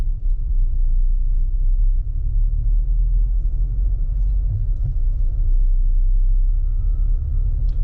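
A diesel car driving through city traffic gives a steady, loud low rumble of engine and road noise from inside the cabin, continuous with no talking.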